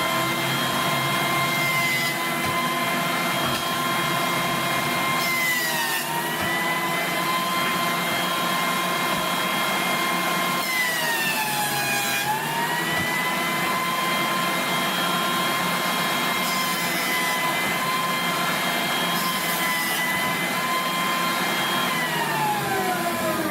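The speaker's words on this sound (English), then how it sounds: "I'll actually joint this side, run it through there a couple times" A woodworking jointer flattens a wood board in a couple of passes, its motor droning with a steady high-pitched whine that dips and shifts in pitch as the blade bites into the wood, loud and close throughout.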